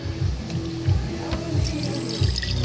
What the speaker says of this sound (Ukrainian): Наливаємо трошки отако от.